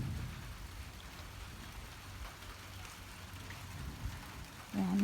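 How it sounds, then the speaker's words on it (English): Rain falls outdoors over a carport under restoration, giving a soft, even patter and hiss that stays faint and steady throughout. "this rain's getting a little bit worse"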